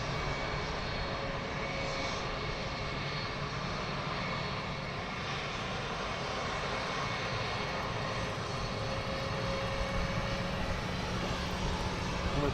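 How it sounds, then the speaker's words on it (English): A business jet taxis out at London Luton Airport, its engine making a steady, loud roar that holds without a break, with no voices over it. "he's holding there for another BizJet that's taxiing out."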